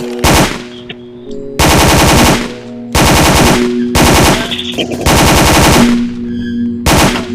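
Automatic gunfire in the Roblox video game, several loud sustained bursts separated by short pauses, with a steady electronic game hum underneath and no talk.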